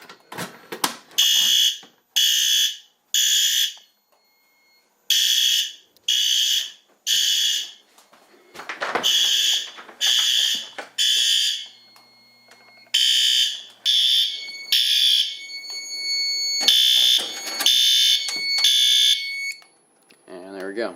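A fire alarm system sounds after an NBG12LX pull station is pulled, loud electronic horn blasts repeating in groups of three with short silent gaps between, and a voice briefly heard in the pauses.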